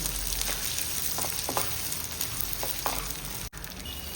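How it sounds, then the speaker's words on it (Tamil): Ridge gourd peel sautés with salt in a pan, giving a steady, close sizzle with scattered crackles and a brief dropout near the end. "தேவையான அளவு உப்பு போட்டு வதக்கணும்."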